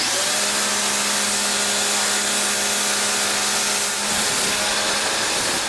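A Ryobi 1600 PSI electric pressure washer sprays through a 40-degree nozzle, a loud, steady motor whine and hiss of water that runs unbroken and close, dipping briefly near the end.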